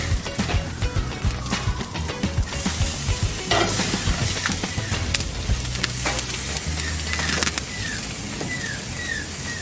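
A steak sears on a Coleman Revolution dual fuel gas and charcoal grill, giving a steady, close, continuous sizzle and crackle with no talking, with faint outdoor bird chirps in the background.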